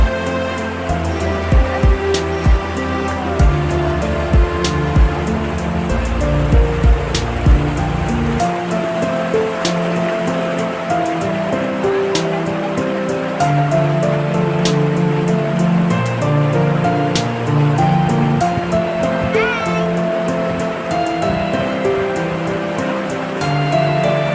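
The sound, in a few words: strong current of the Guayi River flowing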